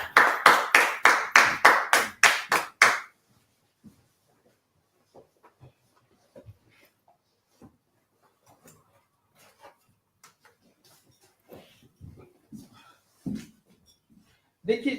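A class in a law session claps in unison, about ten loud, evenly spaced claps at the start, followed by near silence broken by faint scattered sounds and a few quiet voices.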